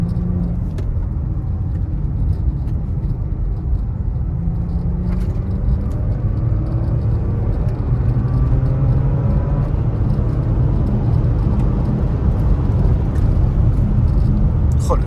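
A Porsche Macan S engine pulling hard under acceleration inside the cabin, a loud continuous rumble whose pitch climbs steadily through the revs, with someone talking over it.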